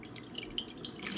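Water poured out of a container, a brief splashing trickle with light drips lasting about a second, close by with no talk.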